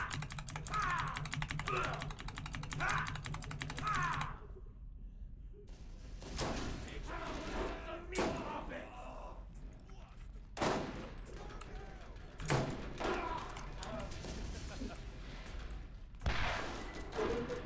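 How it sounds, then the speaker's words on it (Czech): Bursts of rapid synthetic gunfire from a fast-firing weapon in Borderlands rattle in quick succession, interrupted by several sharp blasts, with a voice occasionally talking underneath. "Tohle střílí velice rychle."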